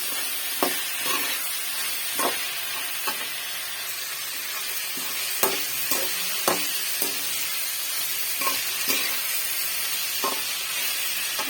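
Chopped bottle gourd sautés in a pan for a peanut chutney, sizzling and hissing steadily up close, with scattered sharp clinks and scrapes of a spoon stirring the pieces, and no talking.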